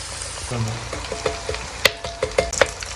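Kachoris and rolls deep-frying in hot oil give off a steady close sizzle, with scattered sharp pops and crackles bursting through toward the end.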